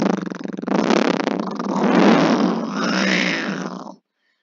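A voice imitates a car revving its engine, pushed close into a microphone: a loud, buzzy, growling drone that surges and swells for about four seconds, then cuts off abruptly.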